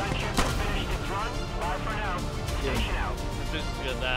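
Gunfire in a realistic tactical first-person shooter on console rings out in sharp repeated bursts against a busy game backdrop, while people talk excitedly over it.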